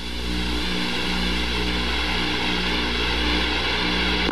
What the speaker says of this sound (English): you got a little compressor stall there